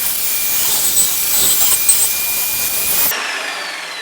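A saw cutting a groove in wood for an incense box, a steady, loud, high whirring cut lasting about three seconds before the noise abruptly drops away to a quieter hum.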